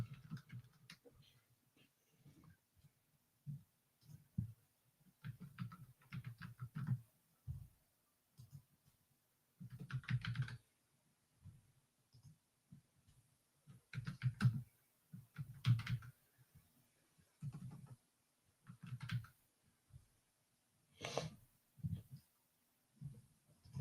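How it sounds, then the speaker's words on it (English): Fingers type on a computer keyboard in quick irregular bursts of clicking keystrokes, close and fairly quiet, separated by short pauses across the stretch. "I'm hitting all the wrong keys."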